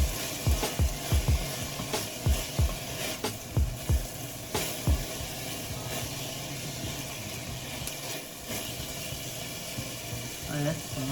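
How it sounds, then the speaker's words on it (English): Vegetables fry in about three tablespoons of vegetable oil for rasta pasta, giving a loud, steady sizzle with repeated knocks and scrapes of stirring near the start, then a continuous crackle. "Fry up these lovely vegetables."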